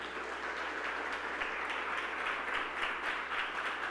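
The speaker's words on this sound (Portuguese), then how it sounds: "Se você recebe, aplauda o Senhor" A church congregation applauds during worship, a faint, distant wash of steady clapping with soft rhythmic pulses and no clear voices.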